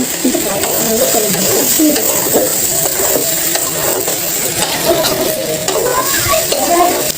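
Pulao rice is stirred and fried in a pan, giving a loud, close, continuous sizzle with busy scraping and clattering of the spoon against the pan throughout.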